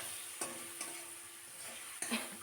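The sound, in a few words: stirring and frying spice masala in oil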